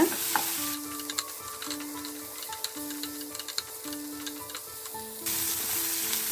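Tomatoes and onions sizzling in a pan while being stirred, a steady hiss with regular light scraping ticks from the spoon, close and moderate.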